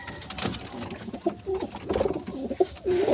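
A racing pigeon gives several soft, close cooing calls in short bursts, faint background noise between them.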